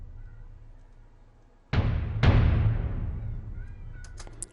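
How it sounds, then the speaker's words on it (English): A simple main drum layer treated with reverb and compression: two heavy booming hits in quick succession, each ringing out into a long wash, loud and alone, with faint higher clicks at the end. "This one, the middle one, is the main drum layer."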